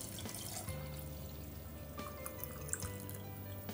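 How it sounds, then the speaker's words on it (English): Water poured into a jar of frozen raspberries and blackberries, a quiet, continuous trickle with faint dripping, heard close up and alone. "I'll add water."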